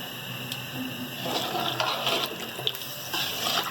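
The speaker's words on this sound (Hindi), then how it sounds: "और हमें पानी डालना है और ज़रूरत पड़ेगी डालने की।" Water pours in a steady, close stream into a pot of haleem while it cooks, with a few splashy surges and no voices.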